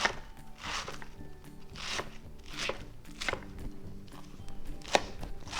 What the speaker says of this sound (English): the iceberg, which I try to slice pretty thin